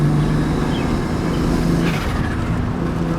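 RB25-swapped Nissan S13 240SX pushed hard into a corner, with a steady, loud engine drone and road rumble, a low harmonic tone holding throughout with no voices.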